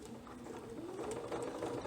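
A sewing machine stitching a lined embroidered net dress, a steady mechanical whirr of the needle running continuously and fairly close, with no one talking.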